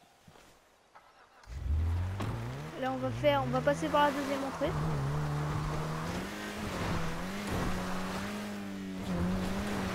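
A car in GTA 5 online starts up and drives, its engine droning and revving steadily beneath someone speaking French.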